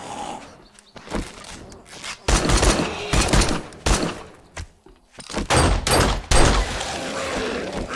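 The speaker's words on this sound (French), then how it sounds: "Je tire trois balles, une de chaque côté et une dans la tête." Gunfire in the survival video game 7 Days to Die during a fight with a biker gang, with several sharp bursts of shots spread across the clip, loud and close, separated by short quieter gaps.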